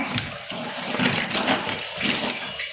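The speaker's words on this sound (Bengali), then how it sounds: "কয়েকটা কাপড় ভিজিয়ে রেখেছি সেগুলো ধোয়ার জন্য" Soaked clothes being washed by hand in a washroom, with water splashing and sloshing in irregular close bursts.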